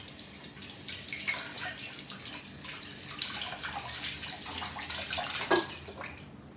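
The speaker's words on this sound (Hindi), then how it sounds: "एक बार मैं अपने हाथ को वॉश कर लेती हूँ।" Running tap water splashes over hands being washed at a kitchen sink, a close, fairly soft hiss with uneven splatters and a few louder splashes toward the end, no voices.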